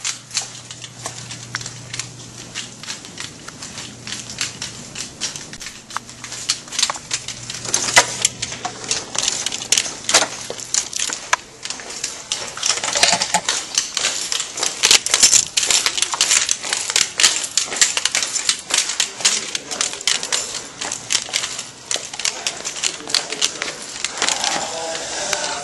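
A small mouse trap car, wound by string around its back axle, runs along a school hallway floor with a rapid, uneven stream of light clicks and rattles over a faint hum.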